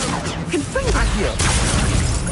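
A summoning spell cast in a Hogwarts wizarding video game lands amid loud game action, a swishing magical whoosh with whistling, gliding tones and a crashing impact, a voice briefly sounding over it.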